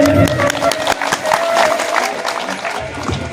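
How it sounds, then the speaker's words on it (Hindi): An audience at a Hindi religious discourse breaks into quick scattered clapping that swells and fades over a few seconds, with a voice faintly sounding underneath. "तो ताली बजाओ इनके लिए।"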